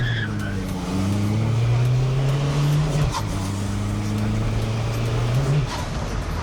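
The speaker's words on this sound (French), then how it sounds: "là on va faire une petite départ arrêtée" A tuned Peugeot 306 TD's engine revs climb hard through two gear shifts as it pulls away from a standstill, loud and close inside the cabin.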